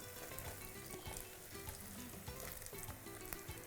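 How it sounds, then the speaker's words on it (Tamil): Okra sautéing in oil with onions in a pan, a steady moderate sizzle and frying crackle with occasional stirring scrapes, continuous and alone throughout. "இப்போது இந்த வெண்டைக்காவை போட்டு வதக்க போகிறோம்"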